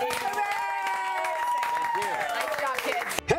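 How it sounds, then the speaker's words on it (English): Studio audience applauding and cheering for two moms revealed after an ambush makeover on a TV morning show, a steady wash of clapping with excited voices and a host talking over it. "We have a big round of applause for both of our ladies."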